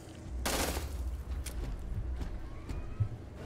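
Gun in Starfield firing until the ammunition runs out: a dense, loud burst of shots up front, then a few scattered fainter cracks and clicks as the fire dies away.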